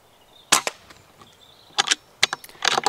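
Sharp, close FAC air rifle shots fired at a rabbit from about twenty yards outdoors, a few crisp cracks spaced apart with short clanking follow-ups between quieter gaps.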